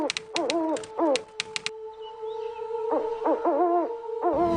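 Birds calling with clear, repeated hooting notes in two rhythmic bursts separated by a pause, loud and close over a steady musical tone.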